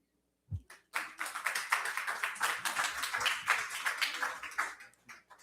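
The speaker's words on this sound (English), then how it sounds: "I understand that was beautiful, but no clapping, please." An audience at a city council meeting breaks into a burst of applause: a couple of isolated claps, then several seconds of dense, lively clapping that thins out at the end.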